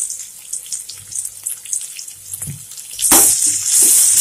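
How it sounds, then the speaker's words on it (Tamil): Chopped large onion hitting a hot oiled pan for Chettinad coriander chutney, a quiet clatter giving way to a loud, steady sizzle of frying that fills the second half, with no talk. "இதை போட்டு நல்லா வதக்க போகிறோம்"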